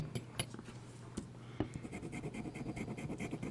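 Broad steel nib of a Jinhao 159 fountain pen, freshly dipped in ink, scratching across paper in quick close strokes, with a few sharper taps of the pen against the page.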